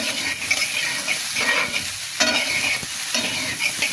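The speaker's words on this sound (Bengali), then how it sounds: "আর একটু ভাজা হতে লাগুক" Pieces of green banana and green chili sizzle steadily in a hot pan, with intermittent stirring scrapes and knocks breaking through a constant loud frying hiss and no voices.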